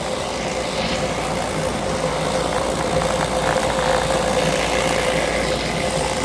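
A vibratory tumbler with an acrylic lid hums and buzzes in a steady, even drone, a constant mechanical rumble with a faint rattle of media that never changes, with no voices.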